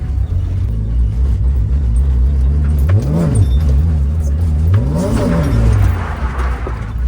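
A BMW E36 drift car idles with a rough, lumpy rumble, then is revved twice in quick blips that rise and fall back to idle, close and loud.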